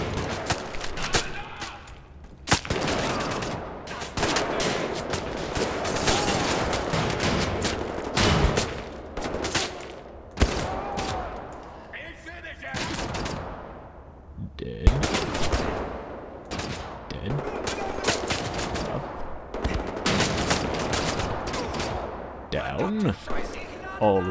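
Continuous gunfire from the first-person shooter Wolfenstein: The New Order, with rapid bursts and repeated shots filling the whole stretch at steady loudness, mixed with game effects and occasional talk.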